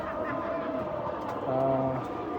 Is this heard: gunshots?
no